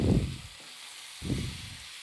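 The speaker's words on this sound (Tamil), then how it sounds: "கருவாடை நல்லா வதக்கணும் இதை அடிக்கடி கலரி விட்டுக்கிட்டே இருக்கணும்" Dried anchovies sautéed and stirred in a pan, two short bursts of scraping stir strokes over a soft, steady sizzle, close and fairly quiet, no talking.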